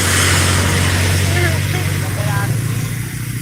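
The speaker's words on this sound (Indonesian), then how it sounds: "Nah ini tumben ada bus dari pariwisata nih" A tour bus engine idles at a bus terminal, a loud steady low rumble close by that eases slightly toward the end, with voices talking over it.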